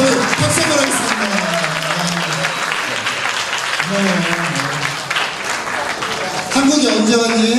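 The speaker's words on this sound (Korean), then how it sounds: "박수 한번 하겠습니다" Audience applause at a youth church camp, dense clapping from a crowd that runs through the whole stretch, with voices talking over it.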